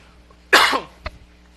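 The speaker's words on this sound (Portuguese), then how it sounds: "Peço desculpas pela tosse" A single harsh cough bursts out close to the microphone, followed by a short, fainter throat sound a moment later, then quiet.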